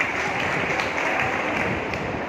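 Applause from the audience at a BJP women's wing political event, a steady dense wash of clapping at moderate level that fills the moment evenly without breaks.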